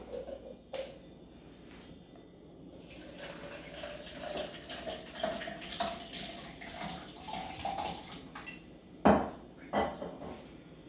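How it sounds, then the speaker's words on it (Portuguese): Water is poured for homemade stuffed bread dough, a steady splashing rush that runs for several seconds at moderate volume, with a couple of sharper knocks near the end. "Eu vou pôr 200 ml de água."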